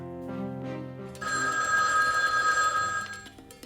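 A telephone rings as a call is placed, a bright trilling ring following a low murmur, sustained for about two seconds before stopping.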